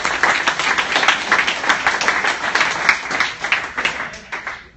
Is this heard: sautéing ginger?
no